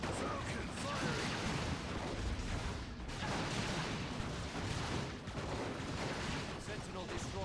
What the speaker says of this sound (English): Vulcan firing!